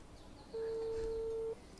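A single steady ringback tone, about a second long, sounds quietly on an unanswered phone call, with faint room noise before and after.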